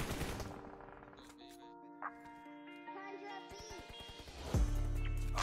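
Gunfire from sniper rifles in PUBG Mobile cracks out as quick shots over game music and a steady stream of talk.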